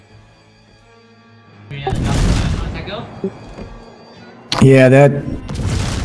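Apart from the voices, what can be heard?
ship guns firing in World of Warships video game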